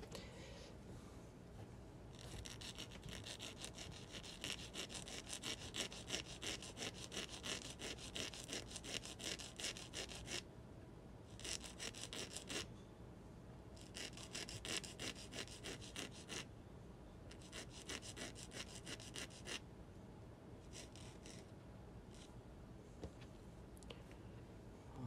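A casting of wooden window trim is hand-sanded in long rhythmic scraping strokes, steady bursts of dry rasping separated by brief pauses, close and fairly quiet.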